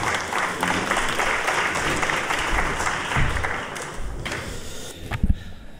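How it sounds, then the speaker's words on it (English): Audience at a regional drug summit in Houston gives a sustained round of applause welcoming a speaker to the stage, dense clapping filling the room, tapering slightly near the end with a few sharper claps. "welcome Mr. Maples with a warm round of applause"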